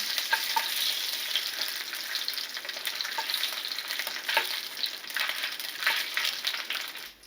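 Chicken pieces browning in a hot pan, a dense continuous hiss of frying fat with crackles and occasional stirring scrapes, close and steady throughout without any voices.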